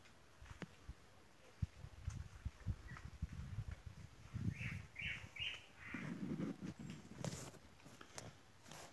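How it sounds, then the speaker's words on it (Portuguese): Out in the countryside, a pomba carijó pigeon gives a few soft, repeated calls, joined by other bird chirps and scattered thumps close by. "Pomba carijó tá dando um show aí."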